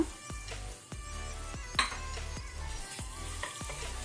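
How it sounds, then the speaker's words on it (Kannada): Garlic, green chillies and ginger frying in a pan over low to medium flame, a continuous close sizzle broken by regular scraping stirs and metallic clinks of a spoon against the pan. "ಬೆಳ್ಳುಳ್ಳಿ ಕೆಂಪಾಗೋ ತನಕ ಹುರಿಯುವ."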